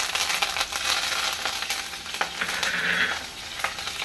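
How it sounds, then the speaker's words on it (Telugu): Tempering of chana dal, urad dal, mustard seeds, cumin, fenugreek and dried chillies frying in hot oil for a brinjal yogurt chutney, a soft continuous sizzle with scattered faint pops and light stirring, fairly quiet. "Oil heat ఎక్కిందండి. ఇప్పుడు పోపు వేసుకుందాం."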